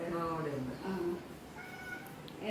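A cat meows a few times close by, its drawn-out calls mixed in with people talking over it.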